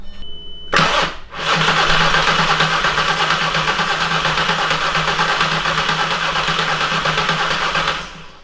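A 3.6L VR6 engine swapped into a Jetta GLI cranks briefly, then catches and fires up, settling into a loud, steady idle close by that runs for several seconds before cutting off.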